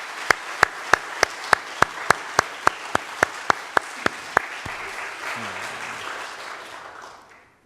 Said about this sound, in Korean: 이 일을 위해서 수고하신 전사님들 선생님들 모두에게 우리 박수로 한번 격려하십시오.